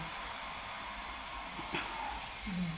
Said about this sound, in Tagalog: Si Nisa nag-hair dryer pa.